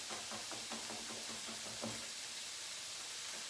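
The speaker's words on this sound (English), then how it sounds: "I'm just gonna take each clove, curl my fingers under, and run my knife through" A knife chops garlic cloves on a cutting board in a quick run of light, evenly spaced taps that stop partway through, leaving a faint background hiss.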